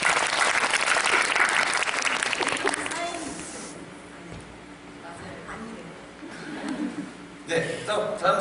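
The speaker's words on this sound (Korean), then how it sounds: "박수 한번 부탁드리겠습니다" A theater audience bursts into loud applause at a post-screening talk for an Agatha Christie suspense drama, the clapping fading to quieter scattered claps and talk before rising again briefly.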